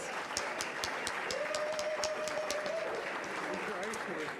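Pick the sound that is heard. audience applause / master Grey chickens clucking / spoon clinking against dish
audience applause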